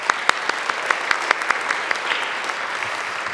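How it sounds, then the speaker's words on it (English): An audience at an evening awards ceremony for queer youth leadership claps steadily, with dense applause and sharp individual claps standing out throughout. "Another round of applause."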